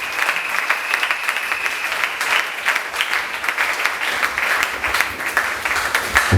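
A church congregation applauding in praise of the Lord, a steady dense clapping that carries on evenly throughout, with no voices rising above it.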